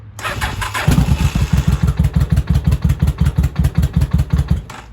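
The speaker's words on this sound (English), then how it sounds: "I didn't put choke on, but it fired right up" An old 1982 Yamaha Maxim 750 or 1983 Honda Shadow barn-find motorcycle starting without choke, a brief crank that catches into a loud, close, rapid rhythmic idle with even pulsing beats.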